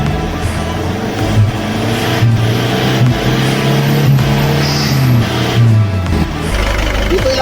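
Isuzu MU-X engine idling and revving up close under the open hood, a steady loud rumble with rising and falling revs and no talk.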